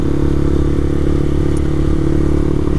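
A Honda CBR125R motorcycle on the move gives a loud, steady engine drone mixed with wind rush, close up and constant, with no talk.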